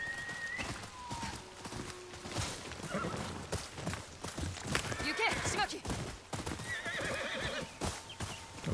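In the Ghost of Yotei video game, a horse whinnies and its hooves clip-clop over shifting game music and effects, with a rhythmic trotting patter and a couple of neighs rising through the mix.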